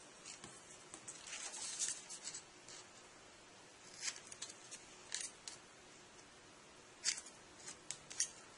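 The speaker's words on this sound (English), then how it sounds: "So once again we do the corners with the scissors." Scissors snip around the corners of a card sheet for a 1:500-scale model airport hangar, producing sharp, close clicks that come in short bursts and isolated cuts with pauses in between.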